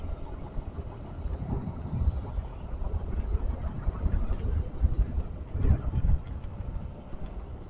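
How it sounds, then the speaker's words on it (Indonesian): Strong wind roars and buffets steadily along a winding road above a ravine on the way to Ciletuh Geopark, a dense rumbling rush with a louder gust near the end and no talking. "Sampai ke telinga pun berdenging ya suara angin."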